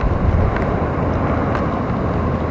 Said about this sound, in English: It's a little windier.